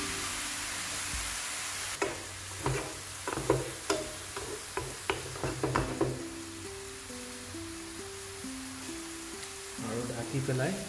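Fermented bamboo shoot (khorisa) cooking in a pan on low flame gives a steady close sizzle broken by scattered clicks and scrapes of stirring, with voices speaking over it.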